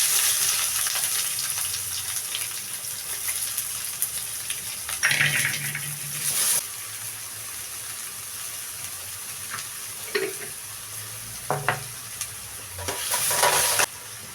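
Onions dropped into hot coconut oil with popped mustard seeds and curry leaves for a Sri Lankan sambal, a steady close sizzle with sharper bursts of frying and stirring clatter at a few points.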